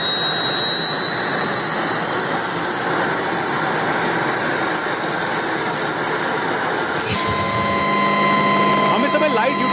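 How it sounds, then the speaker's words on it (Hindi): A steady, loud turbine whine and rotor roar fill the cabin of an HAL Light Utility Helicopter in flight, with high tonal engine lines over broad rushing noise and a brief thump near the end. "हम इस समय लाइट यूटिलिटी हेलीकॉप्टर में हैं।"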